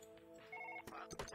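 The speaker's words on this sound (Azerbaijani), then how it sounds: "Telefon zəng gəlir, telefonu götür görüm." Telephone ringing in the video game Surgeon Simulator 2013, a faint electronic ring with a short tonal trill followed by a few soft clicks and knocks.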